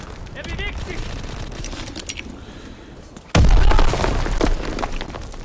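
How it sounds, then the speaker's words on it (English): Enemy bomb explosions in Call of Duty WWII, a loud booming blast arriving partway through after a stretch of steady battlefield gunfire and game noise, with the heavy rumble lingering afterward. "Enemy bomb incoming. Get to cover."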